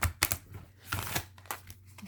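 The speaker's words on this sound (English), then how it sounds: "I'm now shuffling them" Large, thick oracle cards riffle and slap together in several quick bursts, close and fairly quiet, with papery clicks and rustles between the shuffles.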